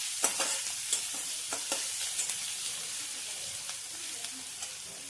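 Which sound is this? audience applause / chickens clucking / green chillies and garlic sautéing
green chillies and garlic sautéing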